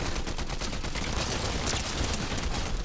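Rapid automatic gunfire in the Fortnite battle royale game, a dense, continuous burst of shots that stays loud and close for the whole stretch, with no talking over it.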